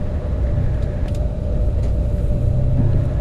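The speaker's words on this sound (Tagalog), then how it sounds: "Ayan, palis na yung bus." A RoRo bus pulls away, its engine giving a steady low rumble with a constant hum throughout, close and loud with no talk.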